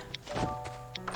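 Footsteps thud outside a house in the survival game Last Island of Survival, a few soft, dull thumps in quick succession at moderate distance, with no talk over them.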